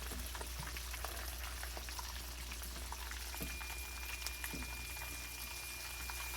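Breaded keto fried chicken deep-frying in hot oil after being flipped, giving a steady, dense bubbling crackle throughout with a few sharper pops, no voices.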